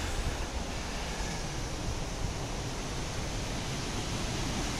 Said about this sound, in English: And the wind's starting now